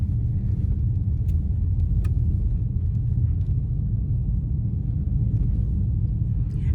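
A car drives through a snowy blizzard between South Lake Tahoe and Reno, with a steady low road rumble and engine hum inside the cabin and a couple of faint ticks.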